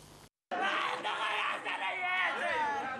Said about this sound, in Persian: صدای ناله و فریاد پس از یک رویداد مرگبار.